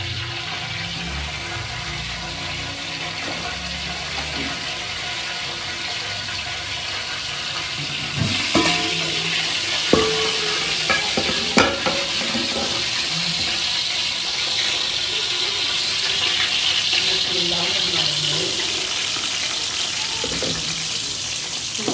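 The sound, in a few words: okra frying and being stirred in ghee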